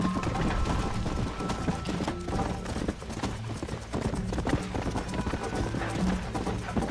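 Hooves clip-clop in a fast, continuous galloping rhythm from a horse in the video game Red Dead Redemption, loud and steady throughout with dense background game sound.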